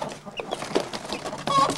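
Chickens cluck in a quick, busy series close by around eggs that are hatching, with short overlapping calls and a brief higher squawk near the end.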